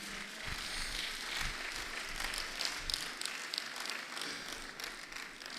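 Audience applause at an annual lecture rises and lingers, a soft, even crackle of many clapping hands in a large room, heard from a distance.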